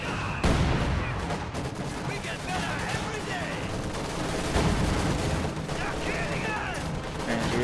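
Maxim machine gun fire in a WWII strategy game, with rattling bursts and shots buried in a dense, continuous battle din of gunfire and explosions that holds steady throughout.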